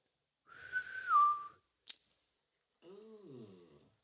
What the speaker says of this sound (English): a whistle in the jungle.